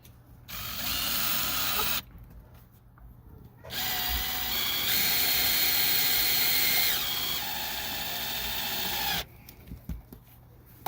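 A power tool unscrews a threaded cap on an automatic chicken coop door. It gives two long, loud whirring bursts close by, with a shorter burst at the start and quiet clicks in the pauses between.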